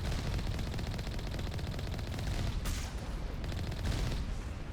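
Turret gunfire in Mass Effect rattles steadily as a constant stream of rapid automatic shots, loud and close, with a few heavier bursts cutting through the sustained firing.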